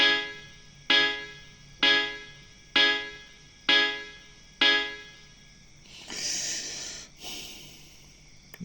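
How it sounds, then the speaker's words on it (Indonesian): A reggae rhythm: five evenly spaced, punchy synth chords on the offbeat in a steady skank pattern, then a brief hazy, filtered swell at the end. "Untuk selanjutnya itu rhythm dari reggae."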